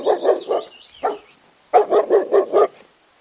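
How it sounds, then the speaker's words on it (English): A dog barks in two bursts, three quick barks and then a run of about five, fairly close and loud, with a brief whine-like yelp between them and no talking. "D for dog. D for dog."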